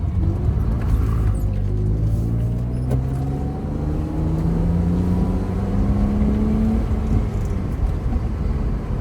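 A 1999 BMW Z3 2.8 with a double-VANOS straight-six, heard from inside while driving: a steady low engine drone whose pitch climbs gradually as it accelerates, with continuous road rumble and no voices.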